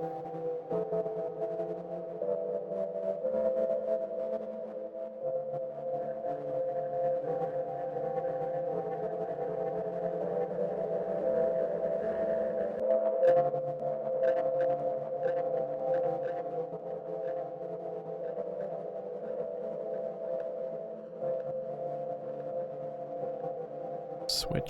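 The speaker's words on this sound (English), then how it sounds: "Add a delay before the reverb." A sustained, droning Audio Thing Wave Box synth tone with a delay placed before the reverb, a steady layered hum that holds for over twenty seconds with faint echoing smears and no talk.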